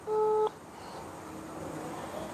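A single short, loud telephone dialing tone sounds as a call is placed, followed by quiet line hiss.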